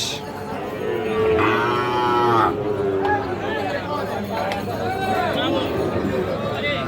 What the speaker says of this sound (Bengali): এই যে সামনে দেখতেছেন যে প্রচুর চাহিদা সম্পূর্ণ শাহিওয়াল জাতের সার গরু